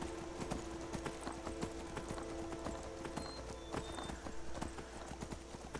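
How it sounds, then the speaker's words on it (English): Horse hooves clip-clopping at a steady walking rhythm in the video game Skyrim, faint and close, with a low hum beneath and no speech. "Why did you turn around, horse?"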